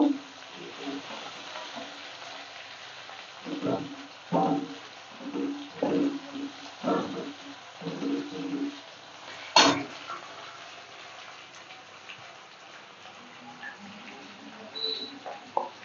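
Onion and garlic frying in a pan as they are stirred, a low sizzle under a burst of scraping spoon strokes around the middle, then a quieter simmer.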